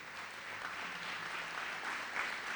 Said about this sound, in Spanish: podamos darle un fuerte aplauso al Señor